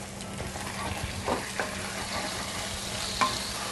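Chicken pieces stir-fry in a hot wok with sesame oil, a steady bright sizzle broken by a few scraping stirs of the spatula, no talking.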